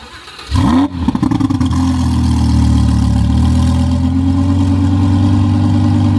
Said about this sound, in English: that's what the idle sounds like right now of a V10 supercar